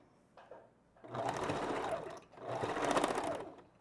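A sewing machine back-stitches along a wig track. It hums through two short bursts separated by a brief pause, close and fairly quiet.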